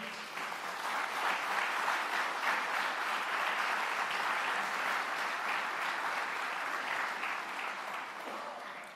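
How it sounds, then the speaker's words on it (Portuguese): A conference audience at an event on vocational education and training in the islands gives sustained applause, dense clapping holding steady for several seconds before tapering slightly at the end. "E o reconhecimento é deles, para quem eu peço uma salva de palmas."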